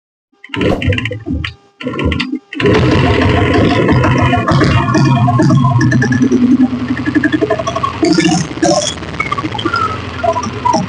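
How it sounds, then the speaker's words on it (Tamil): A 1990 Royal Enfield Diesel Bullet motorcycle cranks in a few short stuttering bursts, then catches and settles into a steady, loud, close idle that runs on with small changes in tone. "இப்போ வண்டி ஸ்டார்ட் பண்ணி கேட்ட பாரு"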